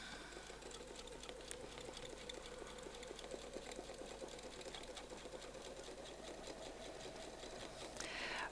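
A domestic sewing machine runs steadily while quilting feathers along a template, giving a continuous, rapid needle rattle at a fairly low level with no break.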